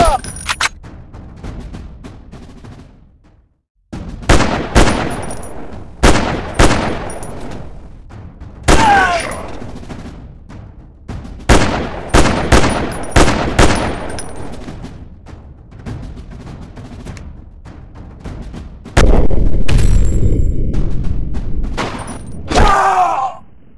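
Repeated gunshots and thuds ring out in a shooting war video game, coming in sharp separated bursts with short pauses, then a denser stretch of rapid fire near the end.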